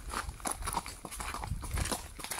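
A horse cantering on a trail ride, hooves thudding in a quick irregular rhythm, close but fairly faint under wind and movement noise.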